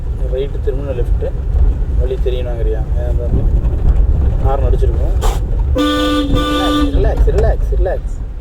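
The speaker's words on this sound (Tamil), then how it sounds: "ஹார்ன் அடிச்சிருக்கோம்." A driving school car's horn gives one long, loud honk with steady harmonics near the end, heard from inside the car over road rumble and ongoing talk between instructor and student.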